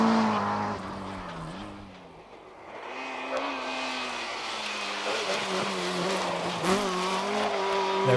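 A rally Ford Escort slides sideways through a fast bend and over a crest on a Donegal rally stage, its engine note rising and falling hard with brief tire scrabble, loud and close throughout.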